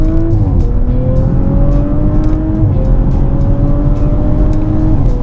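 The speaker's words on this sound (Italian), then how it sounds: "Io affondo il pedale del gas e non sento minimamente le gomme slittare." An Audi RS5 engine roars hard and close, pitch climbing steadily with a brief dip at each gear change as it accelerates at full throttle.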